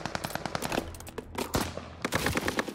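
Rapid automatic gunfire from a recoiling gun in Call of Duty: Vanguard, loud bursts of shots with short gaps and a brief pause midway, then the firing resumes.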